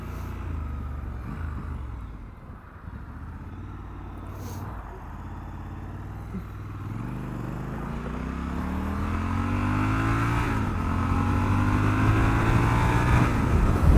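A 2021 Triumph Scrambler 1200 XE cruises at 70 mph in sixth gear just under 4,000 rpm, its engine drone rising steadily in pitch as it pulls, with rushing wind noise close and loud throughout.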